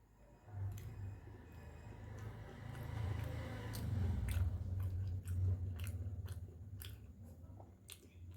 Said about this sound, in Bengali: একটা ডিম খাচ্ছি